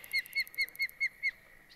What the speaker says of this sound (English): Listen to that poxy bird.